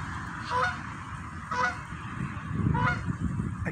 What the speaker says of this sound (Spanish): Bueno, miren los patos.